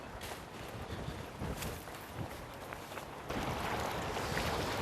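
Strong wind sweeps across a river in Haenam during bass fishing from a boat. A steady, roaring rush buffets the microphone throughout and grows louder and fuller near the end. No one speaks.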